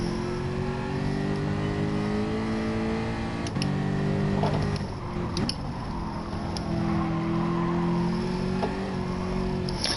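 Race car engine in a racing video game on a tight, twisty track, a steady loud drone holding near-constant pitch, with one brief dip and a few small shifts, unbroken for the whole stretch.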